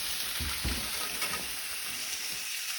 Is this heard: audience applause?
no